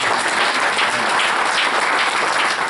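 Loud, sustained applause from a church congregation, dense steady clapping with no pauses or voices.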